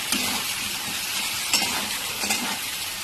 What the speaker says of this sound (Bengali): ডাঁটাটা দিয়ে আর একটু কষে নেবো